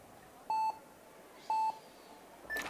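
Two identical electronic start beeps, evenly spaced about a second apart, ring out sharply over quiet crowd ambience at a speed climbing final in Villars, followed by the onset of a higher third tone.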